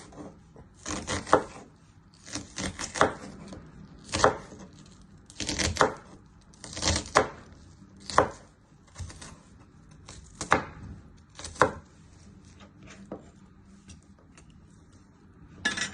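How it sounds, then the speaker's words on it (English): A knife chops an onion into small cubes on a board, giving a run of sharp, irregular knocks that come in clusters and then thin out, close and fairly loud. "Then chop it into little cubes."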